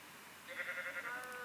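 Sheep bleating in a video game, one drawn-out wavering bleat at moderate loudness over quiet background hiss, with no talking.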